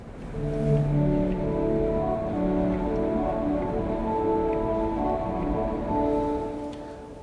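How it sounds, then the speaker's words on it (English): The French horn stop on the Grand Organ of St Paul's Cathedral sounds a mellow, rounded melody over soft low chords, moderately loud and continuous, with the tones blooming into the cathedral's spacious reverberation. "There's a French horn."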